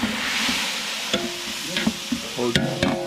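Onions sizzle in a pan for chicken biryani while a spoon stirs them, with steady frying hiss and intermittent scraping clinks, close and alone.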